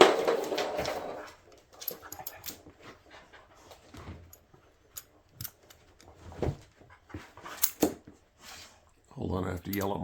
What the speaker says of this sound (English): Hold on, I have to yell at my dogs.